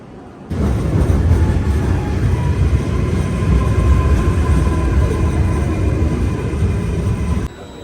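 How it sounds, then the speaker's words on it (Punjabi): A loud high-speed train roars past up close at a European station, a sustained rushing rumble with a high whine that sets in abruptly and cuts off after several seconds. "ਤਿੱਖੇ ਜੇ ਚੁੰਝਾਂ ਵਾਲੀਆਂ ਰੇਲਾਂ ਇੱਥੇ ਫਿਰਦੀਆਂ ਨੇ"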